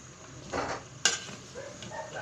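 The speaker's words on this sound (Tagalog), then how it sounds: "dapat haluin natin to para mag-moist yung lasa niya sa ilalim" A spoon scrapes and knocks through pork knuckle adobo in a pot, a few soft clatters and one sharp clink against the metal over a faint steady simmer.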